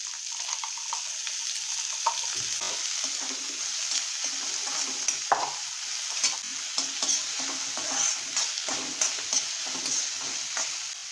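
Chopped onion sizzles steadily in hot oil in a pan for methi sabji, with frequent scraping stirs and small ticks from the spoon running throughout, close and continuous with no talking.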